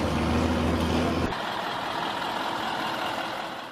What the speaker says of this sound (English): This KAMAZ truck was stuck in the sand. The wheels could not move.